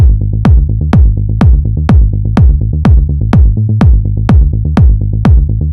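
A tech house synth melody built on the root note and its seventh plays as punchy, plucky notes in a steady repeating groove, loud and alone, with a deep thumping kick underneath.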